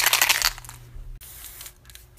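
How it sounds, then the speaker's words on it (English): A spray paint can hisses in a sharp burst as red paint goes onto a suitcase, then a second, quieter spray follows after a short pause. "I'm gonna spray paint my suitcase with my last name just like Casey does"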